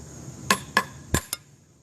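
Hammer striking a piece of natural stone for masonry pitching: four sharp, ringing blows in an uneven rhythm, fairly close and clear, with no voices.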